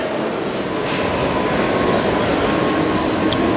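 A train idles at a station platform on a route toward Lucerne, giving off a steady, loud low rumble and hum with a faint high whine, constant for a few seconds with no speech.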